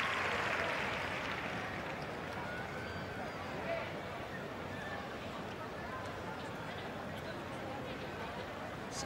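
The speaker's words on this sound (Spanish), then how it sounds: "Aplaude el Johan Cruyff." Crowd applauding in the stands of the Johan Cruyff stadium during a women's football match, a broad steady wash of clapping that swells at the start and then holds evenly, with a commentator talking over it.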